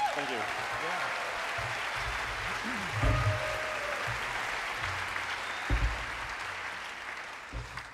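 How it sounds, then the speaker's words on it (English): Theater audience applauding at a sold-out storytelling show, sustained crowd clapping for several seconds with a few louder bumps and some voices mixed in. "How about a round of applause for Gordon?"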